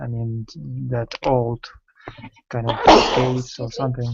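A single sharp sneeze bursts out in the middle of a conversation, loud and close, with people talking before and after it.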